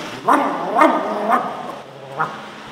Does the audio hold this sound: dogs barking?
yes